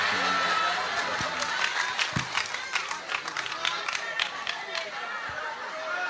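An audience at an Indonesian religious talk claps in a scattered burst with crowd chatter, the clapping fairly close and steady across the moment with occasional louder slaps.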